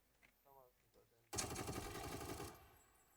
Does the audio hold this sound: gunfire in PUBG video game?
yes